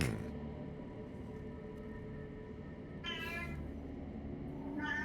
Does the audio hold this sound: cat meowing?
yes